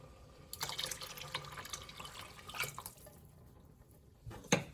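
A whole can of coconut milk is poured into a pot of rice, vegetable broth and salt, giving a soft, close liquid glug and splash that runs for a few seconds, pauses, then ends with a brief sharper drip.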